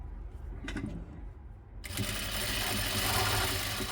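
A sewing machine stitches an extension piece onto the end of a churidar, starting after a couple of faint handling sounds and running steadily and close for the remaining two seconds.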